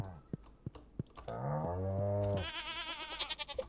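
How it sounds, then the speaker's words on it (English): A goat in the farming game Stardew Valley gives one long, loud wavering bleat, followed by a higher shaky bleat, with a few soft clicks before it. "I love the sound of the goats."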